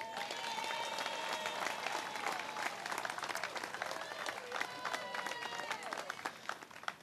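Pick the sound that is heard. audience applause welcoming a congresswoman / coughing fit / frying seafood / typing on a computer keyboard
audience applause welcoming a congresswoman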